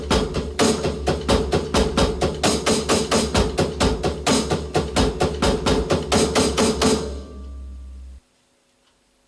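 A drum kit plays pattern 1 of a song: a fast, driving groove of steady, evenly spaced hits with cymbal wash, close and loud for about seven seconds, then a brief ringing decay into silence.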